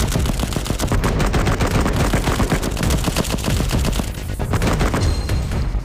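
Sustained automatic gunfire in a shooter video game during a hard mission, with a dense, loud, unbroken rattle of rapid shots lasting several seconds, close and with no talking.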